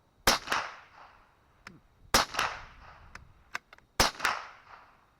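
Three sharp .22LR rifle shots from American Tactical Scorpion HV ammunition crack out at an outdoor range, spaced about two seconds apart, each followed by a short echoing tail and faint clicks between them.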